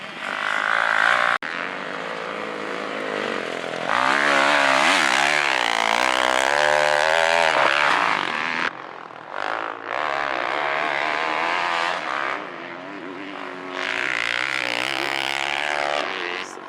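Motorcycle engine roaring loudly and close as a rider runs laps at Thunder Valley track, revving up and down through shifts with brief dips, the motor dominating throughout.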